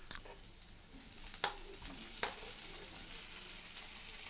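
Onions and tomatoes sautéing in a pan for a Chettinad katla fish curry, a soft, steady sizzle broken by a few sharp spatula knocks against the pan, without speech.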